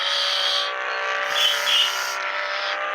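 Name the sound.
Bugatti Veyron accelerating in video game Bus Simulator Indonesia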